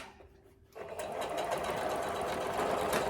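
A sewing machine stitches a basket quilt block, starting after a quiet moment and then running in a fast, continuous mechanical whir, close and steady.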